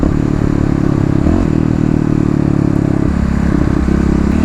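A Kawasaki KLX351 motorcycle engine runs steadily and loudly throughout, moving from a cruising drone into light acceleration with a brief rise in pitch, engine tone dense and continuous with some mechanical clatter.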